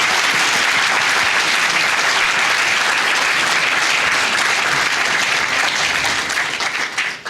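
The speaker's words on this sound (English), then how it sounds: "let's have a round of applause for our panelists" A large crowd at a business panel event applauds the panelists loudly and continuously, the clapping holding strong for several seconds before tapering slightly at the end.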